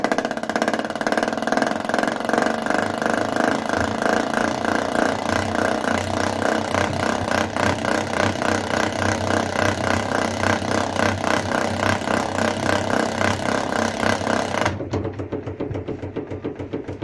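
A honey extractor spinning frames of June mixed-wildflower honey: a loud, steady motorized whir with a rapid, even throb that runs for about fifteen seconds, then cuts to a quieter, thinner hum.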